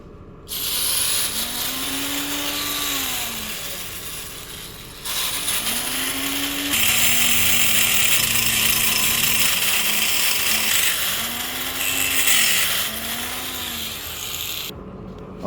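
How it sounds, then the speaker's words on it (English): A power tool cuts through a rear-end part of a GTR150 V2 motorcycle, a loud steady whine rising and falling in pitch across several passes, with brief pauses between cuts. "Okay, I finally cut it."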